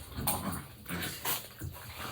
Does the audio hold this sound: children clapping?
no